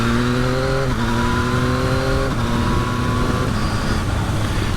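A 2023 Yamaha XSR900 motorcycle with a flexible engine and a slick quick shifter, its steady engine drone heard loud and continuous while riding, with the pitch shifting slightly as it runs through gear changes.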